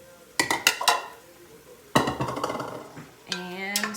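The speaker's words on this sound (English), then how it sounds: "And stir that around." Chopped garlic, onions, celery and carrots stirred in a pot for chicken stock: a cluster of clinking utensil-on-metal knocks, then a longer stretch of scraping and rattling, and a final clatter, close and fairly loud with no talking.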